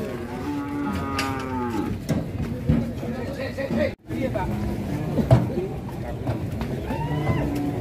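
A cow moos loudly and repeatedly after stepping down off a truck, the calls rising and breaking over constant background chatter from several people nearby.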